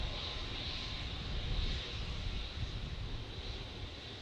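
Embraer E190 jet at Manchester Airport, a steady distant engine roar with a broad airy rush, fairly faint and continuous, no voices.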